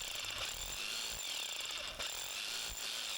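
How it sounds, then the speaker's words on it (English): A Harbor Freight hammer drill with a giant bit drills into stone, a loud, continuous hammering rattle with rapid pulses and brief dips, close up with no talk. "I pulled out a gigantic hammer drill"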